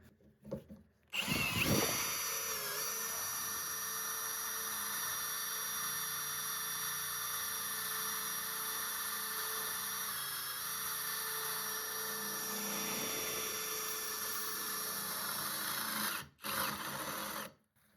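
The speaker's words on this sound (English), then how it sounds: "Once you feel that hole saw kick in, and not just the center bit drilling" A cordless drill whines steadily as a hole saw grinds through thick steel, continuous and close, stopping briefly near the end before a short restart.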